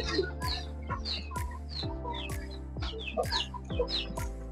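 Chickens cluck repeatedly on a poultry farm raising hybrid chickens, sharp rhythmic clucks and calls from several birds close by over a steady low hum.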